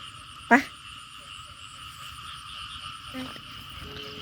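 Frogs calling outdoors in the early morning during a snail-gathering outing: one sharp loud croak near the start, then a low, steady chorus of softer pulsing calls with a fainter croak later.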